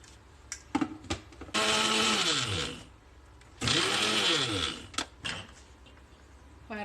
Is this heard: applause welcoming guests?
no